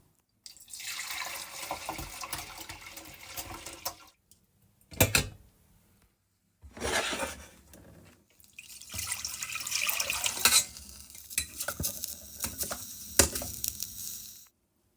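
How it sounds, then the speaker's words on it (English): Quinoa being rinsed under a running kitchen tap, with broadband water splashing in several bursts separated by short pauses, close and fairly loud, with no talking. "But first, they need to be rinsed."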